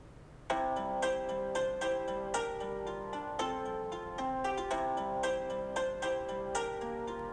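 A phone ringtone plays a repeating bright electronic melody, loud and close, its notes pulsing in a steady rhythm after a brief quiet start.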